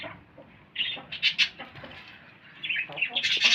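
Pigeons rustle and flutter close by while feeding, with wings flapping and soft scratchy pecking and shuffling sounds in irregular bursts, getting busier toward the end.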